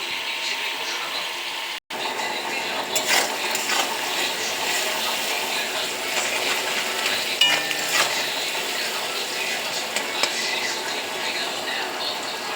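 Onion and whole garam masala fry in a pan, a moderate sizzle with scraping and clinking from stirring, briefly cut at one moment, no voices.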